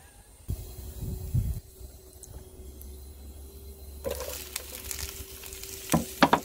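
Leeks and onions sizzle and fry in a Dutch oven for a beef stew, a quiet steady crackle that swells as something is stirred, with a few sharp clinks of a utensil near the end.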